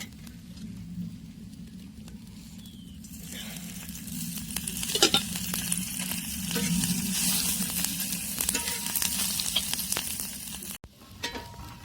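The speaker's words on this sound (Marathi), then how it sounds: "कांद्यामध्येच चांगले भाजून घ्यायचे आणि कांदा पण थोडासा तेल टाकून भाजून घ्यायचं आहे आपल्याला" Onion and green chilies sizzle steadily in hot oil in a pan, with occasional stirring scrapes and clinks over the continuous frying hiss.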